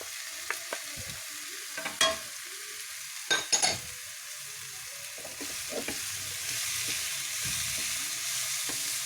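Vegetables for a samosa filling are sautéed in a pan with about two spoons of oil, heard as repeated close scraping stirs over a soft, continuous sizzle, with no talking.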